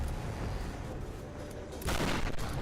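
A shotgun blast from the Tomb Raider game fires once, loud and sudden, as a sharp burst against a noisy game soundscape with no talking.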